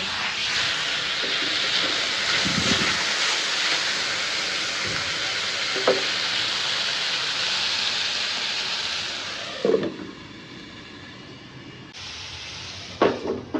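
Biryani frying in a pan gives a steady, close broadband sizzle that runs for about ten seconds, then drops to a quieter hiss broken by a few clinks and stirring knocks; no one speaks.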